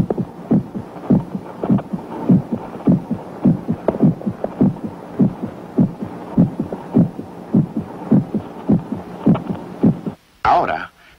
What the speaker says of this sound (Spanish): Escuchen los latidos de mi corazón.